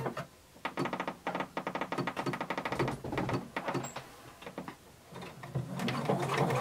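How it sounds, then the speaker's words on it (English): A home sewing machine runs a long basting stitch up the back seam of a Simplicity pattern 1283 garment, its needle chattering in steady bursts with short pauses between runs, close and fairly loud. "a basting stitch, and we're going to continue sewing up the back"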